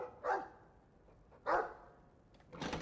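A dog barks in the video game Dragon Age 2, two distinct close barks about a second apart, followed by a brief rustling noise, with no talking.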